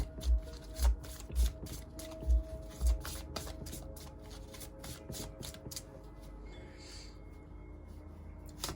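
Handmade cards being shuffled by hand during a reading, a run of quick riffling flutters with soft thumps early on, close and fairly quiet, fading toward the end.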